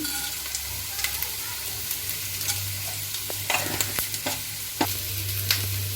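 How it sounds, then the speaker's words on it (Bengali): Bay leaf and five-spice tempering in hot mustard oil for shukto, with close, crackly sizzling broken by sharp spatters and the clicks of a spoon stirring, mostly without talk. "সরষের তেল দিয়েছি, তেজপাতা দেব, ফোড়ন দেব, 5 ফোড়ন"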